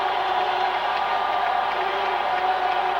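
Loud football stadium crowd at a Saints–Falcons game, a dense continuous roar of cheering voices, steady and enveloping throughout.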